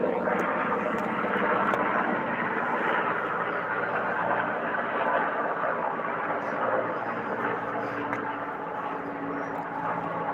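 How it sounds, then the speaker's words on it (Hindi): A helicopter flies overhead as a steady, broadband rotor and engine roar that stays loud and continuous, fading slightly toward the end. "मैं हेलीकॉप्टर दिखा रही हूँ तुम सबको."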